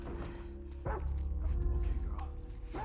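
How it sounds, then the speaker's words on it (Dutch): Dogs in The Last of Us Part II game give a couple of short yips and barks at moderate distance over a low rumbling game soundtrack. "Er zijn dus nu ook honden."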